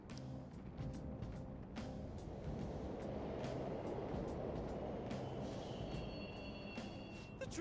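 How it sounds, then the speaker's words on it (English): Subway trains run through a station in the video game Persona 5 Royal, a steady low rumble of rolling cars with rattling clicks and a faint high whine, continuous and fairly close throughout. "The trains are totally running!"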